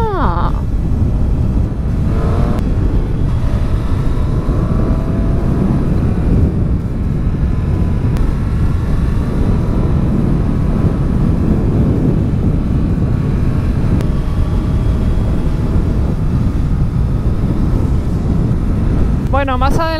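A Triumph Street Triple RS motorcycle with a quickshifter drones steadily while riding, heavy wind rush roaring over the engine note, with a rider's voice speaking at moments and a sharp rising rev near the end.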